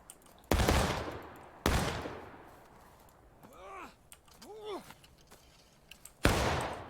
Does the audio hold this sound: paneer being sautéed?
no